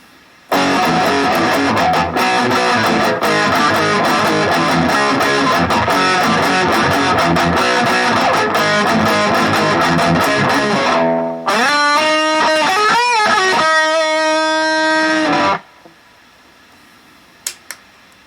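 Loud distorted electric guitar with a bright, cutting bridge-pickup tone plays fast scale runs, then rings out sustained chords before cutting to near silence, on an AIO Wolf WLP-750T left-handed guitar.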